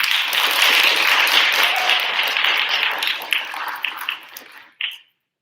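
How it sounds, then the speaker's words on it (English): Audience applause after a performer is introduced at a Poetry Out Loud recitation event, a dense steady clatter of many hands that tapers off and cuts to silence near the end. "With a round of applause for our first one."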